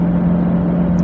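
A 1969 Fiat 500L engine droning steadily in fourth gear, a loud, close, continuous hum with a strong low tone and no talk over it.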